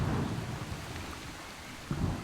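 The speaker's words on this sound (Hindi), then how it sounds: "तेज बारिश" Heavy rain pours down in the Amazon rainforest, a dense broadband hiss with low thunder rumbling beneath it and a swell of thunder near the end.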